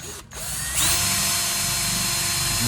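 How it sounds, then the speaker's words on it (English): A power drill bores straight into a small piece of wood for a pizza stand, starting after a brief pause and then whirring steadily and loudly at close range, with no talking. "Easiest way to do this is to drill straight in for just a second."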